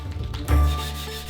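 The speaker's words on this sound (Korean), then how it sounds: "다듬은 겉면을 손사포로 더욱 매끄럽게 만들어 주는데요." Toon wood, also called Chinese mahogany, being sanded by hand with sandpaper, a close, dry rubbing rasp that swells in one stroke and then fades.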